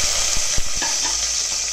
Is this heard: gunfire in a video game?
no